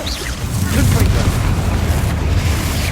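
Confringo fire spell blast in the Hogwarts Legacy video game, a sustained loud booming roar with crackling fiery rumble that swells after a brief lead-in and holds steady for a few seconds.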